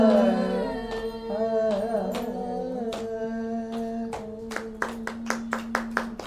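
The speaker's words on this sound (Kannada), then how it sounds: "ಅವ್ರು ಹಾಡ್ಬಿಟ್ಟು ಅವರೇ ಚಪ್ಪಾಳೆ ಹೊಡ್ಕೊಂಡ್ಬಿಟ್ರು ಹಿಂಗೆ" Someone claps their own hands after singing a devotional song on a Harikatha stage programme. The claps come as a run of sharp, evenly spaced beats that grow quicker, following a held sung note with a sustained instrumental drone.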